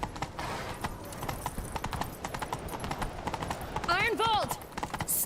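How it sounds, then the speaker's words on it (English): In The Witcher 3, a horse gallops with fast rhythmic hoofbeats clip-clopping throughout, ending in a loud neigh near the end, with voices talking over the action. "Grab a horse, we'll chase him down."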